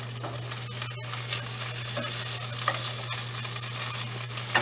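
A Mexican omelette with melted cheese sizzles on the stove, a soft steady frying hiss over a low hum, with a few small ticks and clicks from a spatula scattered through.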